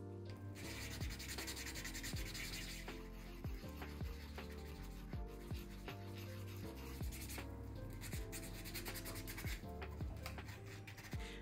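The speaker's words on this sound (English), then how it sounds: "We'll start out by dry sanding this part." A resin 3D print dry-sanded with a coarse sanding block, giving a continuous rhythmic rasping scrub of back-and-forth strokes, close up and fairly quiet, with no talking.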